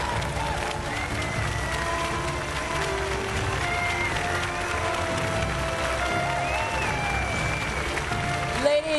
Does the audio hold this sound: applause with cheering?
yes